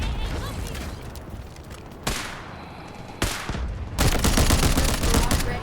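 Delta Force video game gunfire: isolated sharp shots crack out, then a sustained burst of rapid automatic fire over a noisy game background.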